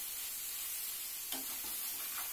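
Okra fries in a pan with sesame and gram flour: a steady, soft sizzling hiss runs throughout, with a few light scraping stirs near the end, close and fairly quiet.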